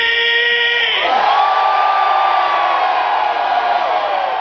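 Concert crowd at a rock show in Iowa screams and cheers in a loud, sustained roar that swells and carries on with whoops and yells, filling the space with no break.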